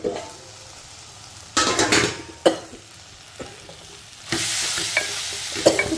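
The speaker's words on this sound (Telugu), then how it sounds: "ఇదిగోండి మూత పెట్టుకుందాం మగ్గుతుందండి స్లోగా" Brinjal and tomato curry cooks in a covered pan with a soft sizzle under a few stirring clatters and pan knocks, growing louder near the end.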